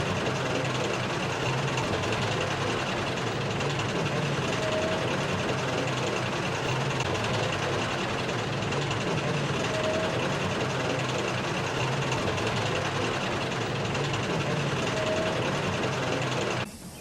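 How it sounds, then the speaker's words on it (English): Diesel locomotive engine growling, a steady low rumbling drone held evenly and continuously at close range, cutting off abruptly at the very end. "who had recently been named Bear due to his engine growl"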